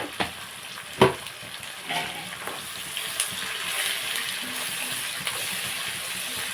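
Onions frying in a pan with turmeric and salt, a soft continuous sizzle punctuated by a few distinct spoon taps and stirring scrapes near the start, close and moderate; no voices.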